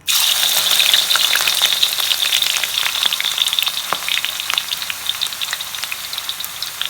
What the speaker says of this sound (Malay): minyak dah panas kita boleh goreng